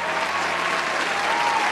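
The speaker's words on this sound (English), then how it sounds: "Give her a round of applause." A small crowd claps in a short burst of continuous applause, dense and steady for under two seconds.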